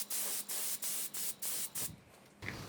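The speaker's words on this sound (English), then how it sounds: "this is how we spray this very first coat" A first coat of silver paint is sprayed onto a tank in six or seven evenly spaced, steady hissing bursts with short pauses between them, close and loud, ending in quieter handling noise.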